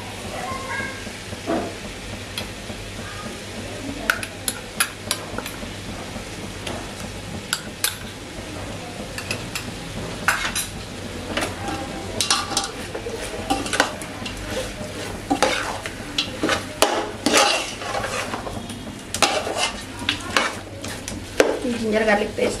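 Ginger garlic paste fries with chicken in a pan for a nati-style biryani, giving a sustained sizzle and frequent metallic scrapes and clanks as a spoon stirs against the pot, close and busy throughout.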